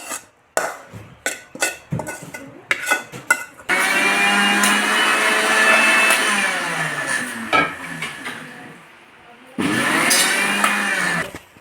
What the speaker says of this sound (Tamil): அதுவும் இதுவும் போட்டு அரைக்கணும் நல்லா